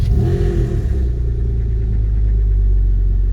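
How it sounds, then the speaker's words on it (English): A Porsche 996 engine cranks and fires up from a cold start, then settles into a steady, fast idle with a deep continuous rumble, loud and close. "So let's go for a nice cold start. So I'm going to fire it up now"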